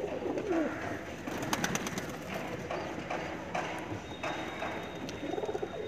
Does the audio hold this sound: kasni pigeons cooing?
yes